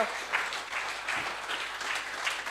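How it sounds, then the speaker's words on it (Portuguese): A church congregation applauds during a service, a dense, steady wash of clapping that rises and falls slightly and continues throughout. "Dê Deus um aplauso para mim."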